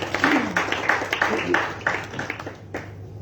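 An audience claps hands as a presenter from FDCT enters the room at a youth event on peace and tolerance in Zimbabwe, a dense, close round of applause with uneven bursts that thins out toward the end.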